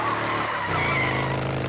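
Motorbike skidding in the video game Forza Horizon 5, a sustained tyre-scrub and engine whine that holds steady and loud through the short moment, with no talking over it.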